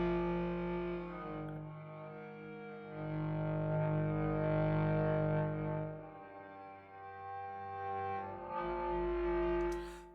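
A sustained, long-release cello patch from a Spitfire Audio sample library holds long tones as it shifts between a clean signal and a distorted one, its gritty edge surging and fading.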